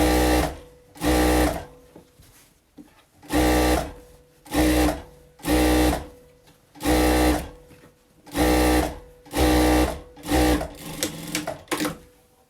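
A sewing machine stitches a slipper pouch in about nine loud, close bursts of rapid mechanical whirring, each run separated by short pauses, the final runs choppier and quicker.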